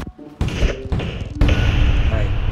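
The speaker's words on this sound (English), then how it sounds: "Coconut cannons!" Coconut Cannons firing in Plants vs. Zombies 2 gameplay, a few heavy thumping booms with sharp onsets amid game effects, while a person talks over them.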